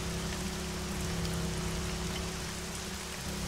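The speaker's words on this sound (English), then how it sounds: "Rain maps, yeah. The rest of the maps weren't raining at all, though." Steady rain falls in the ARMA 3 battle royale video game, a soft, continuous hiss of drops over a low hum, heard alone without talk.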